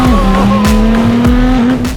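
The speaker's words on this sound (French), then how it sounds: "il ralentit à des moments pour accélérer après" A car accelerates hard through traffic, its engine droning loudly and rising in pitch with brief shifts, close and continuous with road roar beneath.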